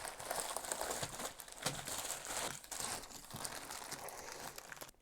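A package double-wrapped in two envelopes is torn open and unwrapped up close, with continuous crinkling and crumpling of paper and sharp tearing bursts throughout.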